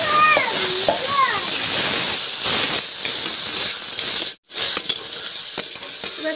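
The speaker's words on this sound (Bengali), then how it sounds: "দিয়ে প্রথমে কাঁকড়াটা ভেজে নেব।" Crabs dropped into hot oil seasoned with salt and turmeric, a loud steady hiss and sizzle with splattering, while someone talks over it early on and the frying cuts out briefly before resuming.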